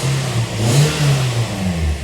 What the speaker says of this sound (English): So right there, the engine is running.